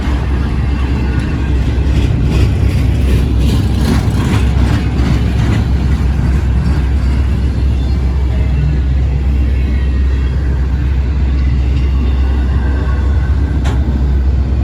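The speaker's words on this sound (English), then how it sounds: "here comes the other one. Two trains passing." Two freight trains pass on a railway bridge near NA Tower, one led by a Chessie System locomotive, a loud continuous rumble of engines and rolling wagons that holds steady throughout, with no voices.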